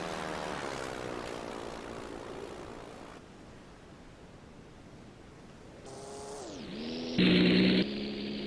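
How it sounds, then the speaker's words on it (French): A propeller warplane going down in the naval game Silent Hunter 3, a steady droning engine whose pitch sags and drops sharply, then a loud harsh burst near the end. "Et un avion de plus descendu."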